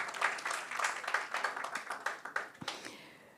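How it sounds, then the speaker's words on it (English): Audience at an investment forum plenary session in Dubai clapping for themselves, a dense patter of many hands in a hall that thins and fades out over about three seconds. "So I'd like you to clap for yourselves, each and every one of you."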